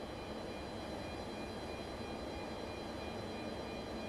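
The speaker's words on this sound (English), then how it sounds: "Starting engine 2." A Boeing 747-200 engine spools up in a flight simulator, a steady broadband jet roar with a faint whine, constant and moderately quiet throughout, with no voices.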